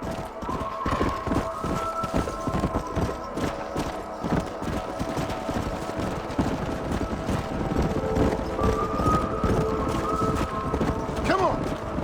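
Several horses' hooves clip-clop steadily on open ground in the Red Dead Redemption video game, a rhythmic plodding under light wind, with a horse whinnying briefly near the end.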